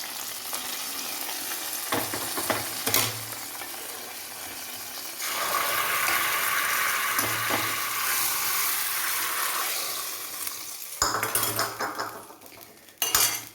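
Hot golden-brown tempering poured into Angamali-style mango curry in a pan, bursting into a loud sizzle that hisses steadily for several seconds between clinks of a metal spoon and pot, then fades back to scraping and stirring.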